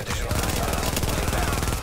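MP5 submachine gun firing in The Division, a rapid continuous burst of automatic shots in a dense, even rhythm lasting nearly two seconds, loud and close.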